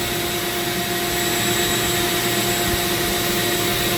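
A Dremel rotary tool whines at a steady high pitch as it carves a zebra wood ring, a loud, unbroken buzz with no talking over it.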